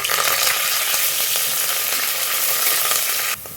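Onion and curry leaves fry in a hot pan, a dense, even sizzle that stays loud and close throughout with faint stirring clicks, then softens slightly near the end.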